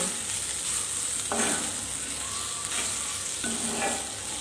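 Onion and dried shrimp sauté in a pan for a village-style dry sukat dish, a continuous close sizzle with a few sharp stirring scrapes, and no voices.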